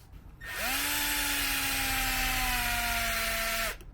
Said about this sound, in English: we suggest drilling from this side, not from the gold side